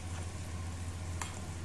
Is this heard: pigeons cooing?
no